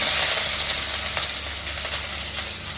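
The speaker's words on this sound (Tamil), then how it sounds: "கடுகு வச்சிருச்சு. இந்த பச்சை மிளகாய் போடலாம்." Green chillies dropped into hot oil with popped mustard seeds sizzle loudly and continuously up close, with faint clicks of stirring, for a beetroot poriyal.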